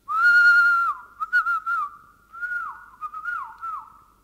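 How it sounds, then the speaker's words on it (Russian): Someone whistles a signal: a long sustained note, then a few short chirps and several wavering, dipping whistles, clear and close with silence between. "Услышав условленный свист, Рогозин откликнулся."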